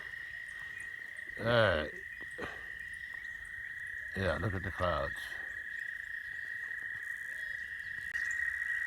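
Frogs croak by a pond in light rain as a steady, high, unbroken chorus throughout, while someone talks briefly twice over it.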